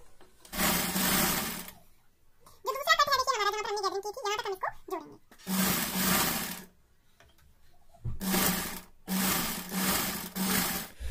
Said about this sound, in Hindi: सिलाई देंगे आधा इंच मार्जिन रखते हुए।